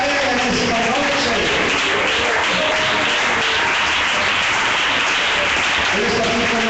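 A church congregation applauds steadily and loudly throughout, a dense wash of clapping mixed with a murmur of voices and sustained musical tones underneath.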